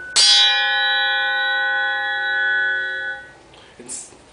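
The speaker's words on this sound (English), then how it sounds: "another try with a hammer" A single hammer strike on a wide, heavily used fencing sword blade rings clearly like a bell, its bright tone sustaining for about three seconds before fading, followed by a faint clink.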